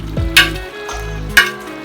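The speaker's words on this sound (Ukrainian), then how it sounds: "додаємо цибульку знову перемішуємо" Sliced carrots and onion sizzle in a pot as a utensil stirs them, giving two sharp scraping stirs over a steady frying hiss, close and fairly loud, with no speech.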